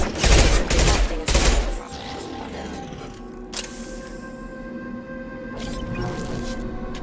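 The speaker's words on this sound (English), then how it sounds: "Shoot them before they take out your shield." Gunfire from the video game Mass Effect 2 opens with two or three loud, rapid bursts. A quieter mechanical game hum and scattered effects follow under faint background sound.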